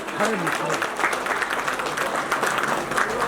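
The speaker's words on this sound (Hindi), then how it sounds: "आप फूलों से स्वागत करते हुए तालियां बजाएं प्लीज। बहुत जोर की तालियां चाहिए" An audience at an International Women's Day gathering claps while guests are welcomed with flowers, a steady, moderately loud round of applause with voices murmuring and someone speaking briefly over it.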